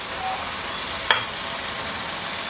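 Raw green banana fries in oil in a pan, a soft even sizzle with a single faint clink partway through, no voices.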